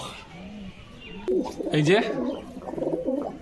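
A pair of pigeons, one white and one black, coos loudly in rolling bursts after being let go, close by, while someone speaks briefly.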